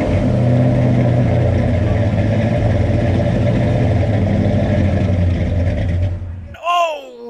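A 1965 Ford Fairlane 500 engine runs loud and steady close by with rough revving for about six seconds, then cuts out abruptly, followed by a brief rising whine.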